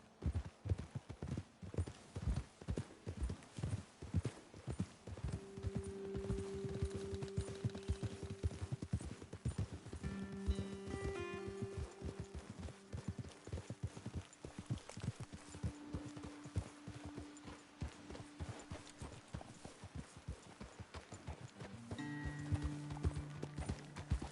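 Horse hooves clip-clop steadily on the trail in Red Dead Redemption 2, a close, continuous rhythmic clopping of riding horses with faint drawn-out tones and a snort or whinny over it.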